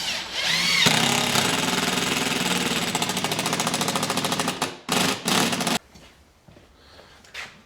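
A power drill drives a screw deeper into particle board for a hand-painted beach sign, a steady loud buzzing whir for about five seconds, then two short bursts before the motor stops and leaves quiet handling noise.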